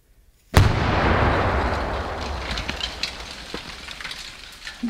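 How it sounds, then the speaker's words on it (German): A sudden loud explosion after a brief silence, its deep rumbling roar slowly fading over several seconds. "Ich glaube schon, dass der Hund einfach explodiert ist."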